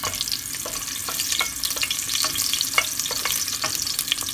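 Rohu fish with garlic frying in a pan: a steady close sizzle with sharp spitting pops and pan scrapes at irregular intervals, no voices.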